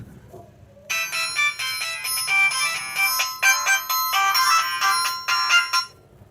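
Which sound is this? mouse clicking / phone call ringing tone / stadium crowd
phone call ringing tone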